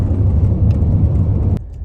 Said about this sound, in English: I'm driving the vehicle.